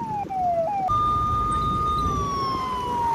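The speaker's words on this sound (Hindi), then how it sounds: "जिसमें हमने बजा रखा है पुलिस का सायरन यानी हूटर।" A police siren played from a speaker wails with a steady rising-and-falling electronic tone, loud and close, playing alone without any voices.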